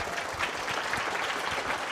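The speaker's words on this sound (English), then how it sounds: "Big round of applause." Fairly faint applause from a conference audience at a developer event, dense steady clapping throughout the short stretch with no voices over it.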